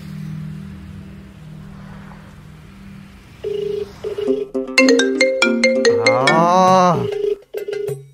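After a low hum, an electronic phone ringtone plays a bright repeating melody loudly and close by, then cuts off near the end.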